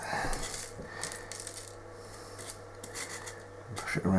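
Chip grit is pushed around on a miniature dungeon build, giving faint, close scratchy rustles and little gritty clicks in irregular bursts over a low steady hum.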